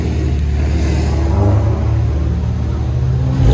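A Chevy Camaro 3.6L V6 with an MBRP cat-back exhaust gives a deep, rumbling rev, loud and close, with the tone rising slightly midway and holding steady.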